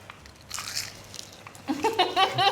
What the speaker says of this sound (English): You can hear the crunch